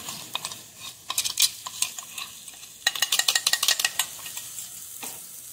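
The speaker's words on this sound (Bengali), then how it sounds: "আমি এবার এটা এর সাথে নাড়বো।" A spoon stirs peas kachori filling seasoned with ground cumin and dried chili in a pan, giving irregular scraping strokes in quick bursts over a faint sizzle, close up with no voices.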